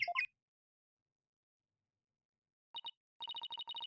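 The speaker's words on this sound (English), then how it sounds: "That's my ringtone." A cute, chirpy phone ringtone plays in Ace Attorney: Dual Destinies, with short electronic tone pairs followed by a quicker repeating run of bright beeps, heard alone and close.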